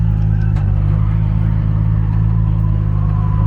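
A Nissan S14 drift car with a swapped 2JZ engine of about 600 horsepower rumbles loudly and steadily nearby at a drift event, its deep engine drone holding constant with no one speaking.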